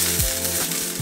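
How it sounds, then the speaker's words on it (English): Mushrooms sautéing in a pan, a steady close sizzle lasting about a second over a low background hum. "now we saute the mushrooms"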